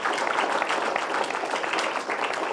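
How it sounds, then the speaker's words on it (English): Audience applause at a book launch, a dense, loud, continuous clapping from a crowd filling the whole stretch without any talk. "Big round of applause, ladies and gentlemen"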